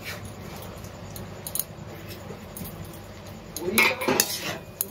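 Mashed potato and chopped coriander are mixed for soya kababs, with soft squishing and light spoon clinks against a bowl that grow louder and busier near the end.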